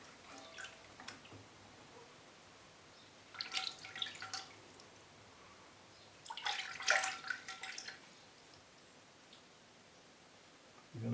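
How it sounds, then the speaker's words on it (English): Drops fall from a small pipette into a container of water, heard as a few faint, sparse bursts of splashy tinkling drips over a quiet background. "And these little pipette things, I remembered the name, they do actually give a pretty consistent drip size"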